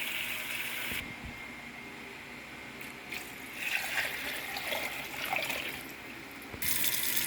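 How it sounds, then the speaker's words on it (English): Cold tap water gushes into a 5-gallon bucket of moonshine mash, a steady splashing pour that starts and stops, with the filling sound changing pitch midway. "Now we're going to get some cold water, and we're going to top off the 5 gallon."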